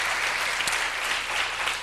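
A congregation applauds during a church sermon, a continuous, even wash of many hands clapping throughout the short stretch, with no speech over it.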